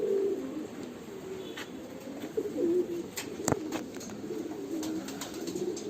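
Indian pigeons coo in soft, low repeated phrases at close range, with a few sharp clicks and faint rustles scattered throughout.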